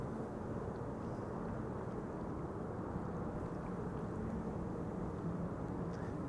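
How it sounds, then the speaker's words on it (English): A Cargolux Boeing 747 freighter arrives at frosty Amsterdam Schiphol, heard as a steady, distant low roar of engines with no distinct peaks throughout. "Cargo Lux, arriving from Miami, Florida."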